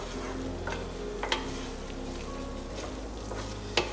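Flour being stirred into hot bacon grease for a roux in a pot for creamy potato soup, a steady close sizzle with soft scraping stir strokes and a couple of sharp clinks of the utensil against the pan.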